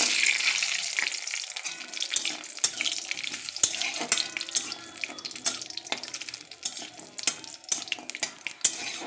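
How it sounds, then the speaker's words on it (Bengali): Lentil bori, dried dumplings, fry in hot oil in a wok, a close hissing sizzle with sharp crackles and clinks scattered throughout, no talk. "তেল গরম হয়ে গেছে, আমি বড়ি কটা ভেজে নেব"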